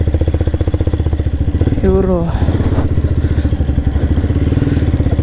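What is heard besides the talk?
motorcycle riding on rough off-road trail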